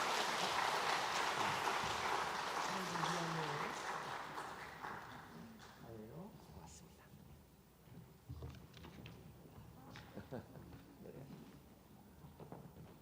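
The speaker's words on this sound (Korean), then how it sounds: "여러분 다시 한번 박수로 축하하고 출산 장려금 전하겠습니다" A church congregation breaks into loud, dense applause during a Sunday worship service, congratulating a new birth; the clapping fades after about five seconds and gives way to a speaking voice and quieter room sounds.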